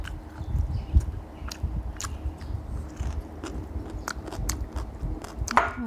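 Crispy fried omelette with shallots eaten with sticky rice, heard as close, repeated crunchy bites and wet chewing that continue steadily throughout, loud against a quiet background, with no talking.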